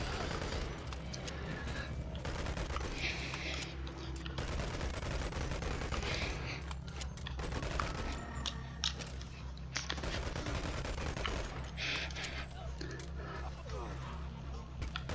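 Gunfire rattles through a Boneworks arena in virtual reality, with bursts of shots and rapid fire repeating over a steady low game drone for the whole stretch, with no voices on top.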